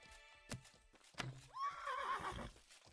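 A horse in the Mortal Online 2 video game lets out a loud whinny in the middle of combat, preceded by a couple of sharp impact sounds, with hoof clatter beneath it.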